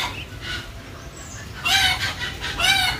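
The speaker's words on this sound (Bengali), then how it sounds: "হাঁসের বাচ্চাগুলো আসছে খাওয়ার জন্য।" Ducklings gather to eat and give high, thin peeping chirps in small bursts over a low background. The calls grow louder and more frequent toward the end.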